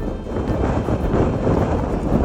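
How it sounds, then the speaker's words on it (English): Steady, roaring gusts of strong wind buffet the microphone in Shetland, a broad rumbling rush that barely rises or falls, with no voices. "The wind is so strong."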